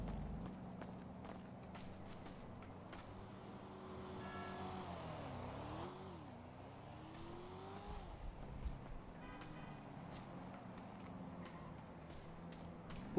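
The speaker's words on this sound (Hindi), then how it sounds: "गाड़ी लेंगे और स्टार्ट हो जाएंगे" Car engine in GTA 5 revving and driving, with game vehicle sounds rising and falling in pitch amid footsteps and background game noise, moderately loud throughout.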